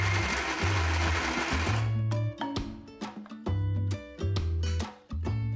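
A kitchen blender grinds leftover minced mutton into paste for seekh kebabs, running in loud whirring bursts that stop and restart several times with short pauses.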